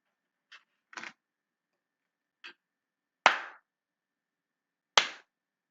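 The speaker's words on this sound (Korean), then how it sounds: "박수 한번 쳐보면요" A few sharp hand claps, made to trigger a sound sensor in a classroom electronics demo, arrive as isolated strikes over a few seconds against silence, the last two louder and crisper.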